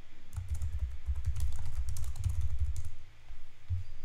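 Rapid typing on a computer keyboard while filer details are entered into a 1099 e-filing application, dense close key clatter with a brief pause before the keystrokes resume, no speech.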